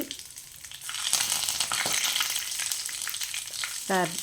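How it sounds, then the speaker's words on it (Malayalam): Dried red chillies and curry leaves crackle and spit in hot oil for a tempering, a dense close sizzle with sharp pops throughout and a brief scrape near the end. "ഉണക്കമുളക് രണ്ട് വറ്റൽമുളകും കൂടെ ഇട്ട് കൊടുക്കുകയാണ് അതിൻ്റെ ഒപ്പം കുറച്ച് കരുവേപ്പിൻ്റെ ഇല ഇട്ട് കൊടുക്കുന്നുണ്ട്"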